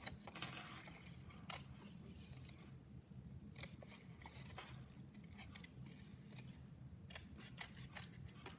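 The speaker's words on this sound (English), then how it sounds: "So I'm going to cut from this side up because I can't turn my scissors around." Scissors snip through paper while a fourth-grade superhero prop is cut out, giving quiet, crisp, repeated cuts at an uneven pace, close by, with no talking.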